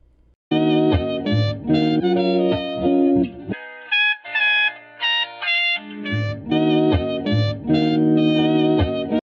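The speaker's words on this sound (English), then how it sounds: "set your preset to the old telephone preset" A loud lo-fi hip hop track through an old-telephone EQ preset has a thin, band-limited tone like sound through a telephone, cutting out briefly midway before the full music returns.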